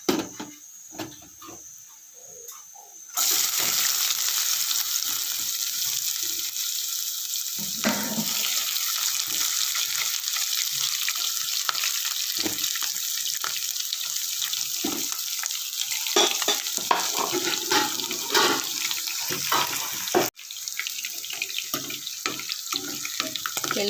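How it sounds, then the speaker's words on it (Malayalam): Chopped garlic, ginger and curry leaves, with mustard seeds and fenugreek, hit hot oil for a chilli pickle and set off a sudden, steady, loud sizzle, with occasional scraping stir clicks over it. "ഞാൻ ഇതിലോട്ടേക്ക് കുറച്ച് വെളുത്തുള്ളി, ഇഞ്ചി, കറിവേപ്പില ചെറുതായിട്ട് അരിഞ്ഞ് വെച്ചാണ് അതിട്ട് കൊടുക്കുകയാണ്."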